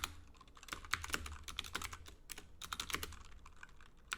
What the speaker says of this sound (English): I'll just kind of type that